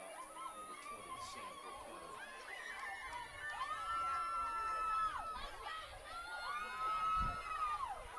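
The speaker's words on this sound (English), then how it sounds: "Crowd still going." Crowd noise at a high school football playoff game between Holy Savior Menard and an opponent, a steady murmur of chatter and cheering swelling in waves, with whistles or tonal calls cutting through and voices heard in the mix.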